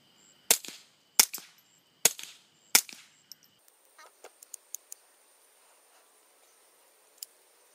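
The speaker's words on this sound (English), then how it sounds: "Now I'm firing the high standard." A High Standard pistol fires four sharp, close shots in a quick, even rhythm, followed by scattered faint clicks and ticks, with no talking.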